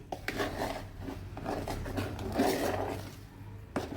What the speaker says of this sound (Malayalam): നമ്മൾ ആദ്യം സ്പൂൺ വെച്ചൊന്ന് ഇളക്കി വെച്ച് പിന്നെ നമുക്ക് കൈ വെച്ച് ഇളക്കി യോജിപ്പിക്കാം.